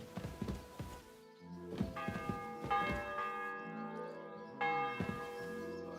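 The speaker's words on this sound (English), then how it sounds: "The bell's ringing for Hans the 5th time." Church bells ring in the medieval video game Kingdom Come: Deliverance II, several overlapping strikes sounding in succession with long, rich tones that sustain and blend into a loud, resonant peal, with no talking.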